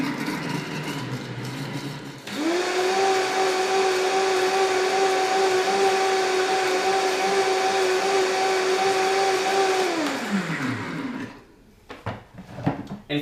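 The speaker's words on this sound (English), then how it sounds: "The blender warms it up." A blender runs on high speed to warm nut milk. The motor roars up to a loud, steady high whine that holds for about eight seconds, then winds down to a stop, leaving a few light clunks afterward.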